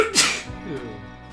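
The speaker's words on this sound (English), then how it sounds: "I gotta sneeze." A person sneezes once, a sharp close burst followed by a short breathy, voiced trailing sound.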